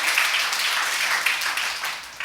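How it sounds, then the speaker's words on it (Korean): Scattered, uneven applause from a church congregation during a Sunday service, a moderate patter of many hands that swells slightly and then thins out toward the end, with no voices over it. "박수가 치지 말든지 치려면 확실하게 치든지 그래야 되는데 너무나 어정쩡해."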